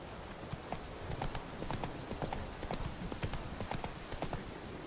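Roach the horse galloping in The Witcher 3, hooves pounding in a steady rapid rhythm close by over a dense ambient bed, with a brief voice at one point.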